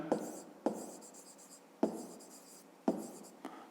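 Several distinct strokes of writing on a board during a fifth-grade maths exercise, each one a sharp tap followed by a short scratchy drag, spaced unevenly and heard close with no talk.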